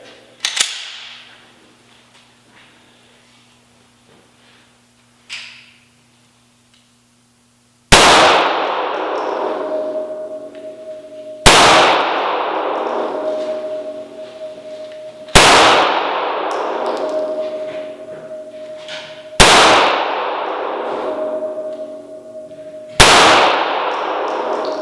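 Six loud, separate shots from a Smith and Wesson M&P9 M2.0 9mm pistol ring out on steel targets several seconds apart. Each shot is followed by a sustained metallic ring, and a faint earlier pop comes first.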